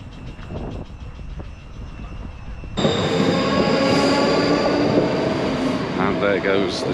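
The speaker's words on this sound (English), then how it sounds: "Goes the train on its way to Edinburgh." A train runs along the Clyde coastline line bound for Edinburgh, its steady rumble and rolling rail noise swelling abruptly louder partway through, with a high whine and squeal riding over the continuous clatter.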